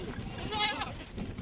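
Goats and sheep bleat at a water point in a village in semi-desert northern Kenya, a short wavering cry close by over outdoor murmur, with a voice faintly underneath.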